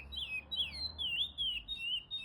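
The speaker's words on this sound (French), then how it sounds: "c'est un plaisir d'écouter les oiseaux chanter, surtout quand ils répètent" A small bird sings a repeated high, warbling phrase several times over soft low background rumble, fairly close and clear.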